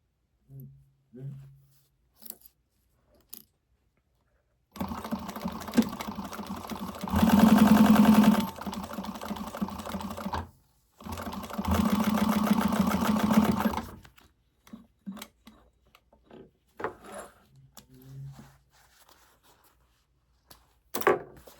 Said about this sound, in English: you're going to stitch the upper gusset piece to the lower gusset piece at a 3/8 inch seam allowance